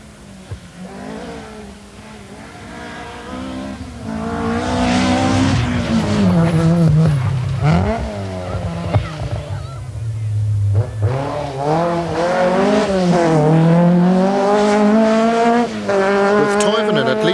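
Opel Manta rally cars at the 1984 Circuit of Ireland Rally roar past with rising and falling engine notes, revving loudly and swelling as they near, with some tyre noise and a commentator's voice over the top.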